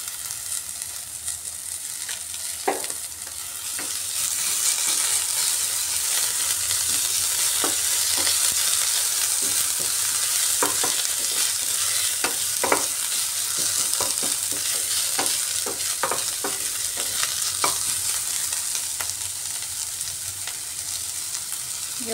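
Chopped tomato and a little ginger garlic paste frying over well-browned onions, a steady loud sizzle with scattered scraping clicks of a spoon stirring the pan, close by.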